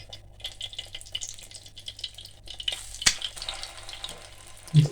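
Shami kebabs dipped in egg fry in hot oil with a soft, steady crackling sizzle, broken by occasional clinks and one sharp tap near the end.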